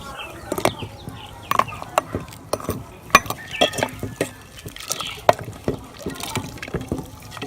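Kashmiri chai kahwa bubbles and boils in a pot on a stove after ice is added, giving scattered close pops and liquid splashes, with someone talking over the cooking.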